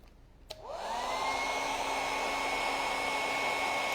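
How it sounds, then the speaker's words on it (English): A click, then a hair dryer spins up and blows with a steady, loud whirring hum close by. "I'm going to hit this with the hairdryer."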